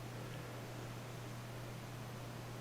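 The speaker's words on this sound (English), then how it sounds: "Now I'm using a dryer to dry the surface." A steady electric blower drying an airbrushed painted surface hums and hisses continuously at low volume, a constant airy rush with a faint low drone and no pauses.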